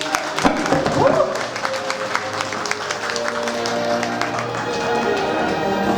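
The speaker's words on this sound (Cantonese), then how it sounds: "現在有請我們的雙方家長請上台，掌聲歡迎。" A wedding audience in Taishan applauds as the couple's parents are welcomed on stage: dense, sustained clapping from a crowd fills the room, with voices mixed in underneath.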